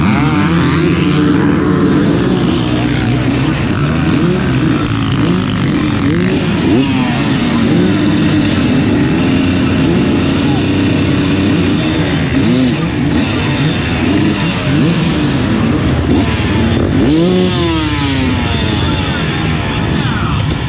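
A pack of motocross dirt bikes roars off the line at a cross-country race start, engines revving hard and continuously with shifting pitch, loud and close throughout, and voices faintly audible under the engine noise.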